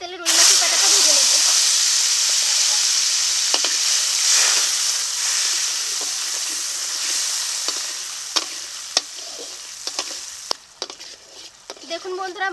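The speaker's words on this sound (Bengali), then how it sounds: "এই তেলে রুই মাছের পেটাটা ভেজে নেব।" Rohu fish belly, salted and coated in turmeric, sizzles in hot mustard oil in a kadai. There is a loud, steady hiss that eases over time, broken near the end by sharp clicks and pops of spattering and stirring.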